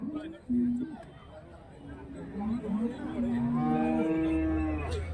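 Cattle lowing at Kundarapalli cattle market in Krishnagiri district, several drawn-out moos rising and overlapping, fairly close, over a steady hum of market chatter and voices.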